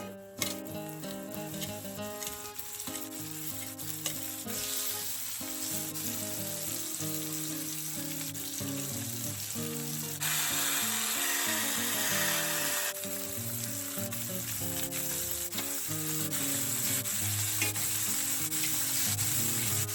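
Beef riblets sizzle loudly in a pan over medium heat, a constant crackling hiss that swells and stays dense, with occasional scraping from stirring and no voices.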